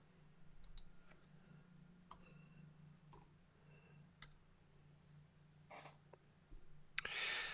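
Keystrokes on a computer keyboard as a short command is entered at a Meterpreter prompt: a handful of faint, sparse clicks spaced about a second apart over low room hum, ending in a brief louder burst.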